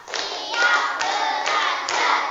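A classroom of children doing a rhythmic tepuk clapping game, bursts of sharp group hand claps falling in an even beat about every half second, loud and close, with no talk over them.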